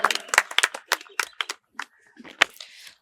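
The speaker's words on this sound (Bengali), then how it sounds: "জোরে হাততালি হয়ে যাক।" A small audience at a medical college quiz competition gives scattered, uneven claps, a dozen or so separate sharp hits that thin out and stop, close and fairly quiet.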